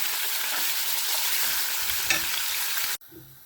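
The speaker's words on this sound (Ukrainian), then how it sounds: "Починаємо зі смаження м'яса." Steady loud sizzling of meat frying in a hot pan for home-style potatoes, a crackling hiss that runs continuously, then cuts off abruptly near the end.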